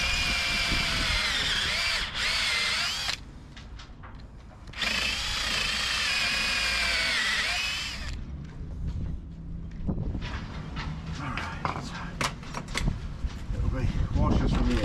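Power drill boring an 8 mm hole on a sailboat, two long high whining runs separated by a pause, then wind and voices talking over the open deck.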